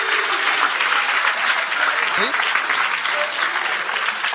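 Steady applause from a crowd fills the whole clip, dense and even, with no break in the clapping.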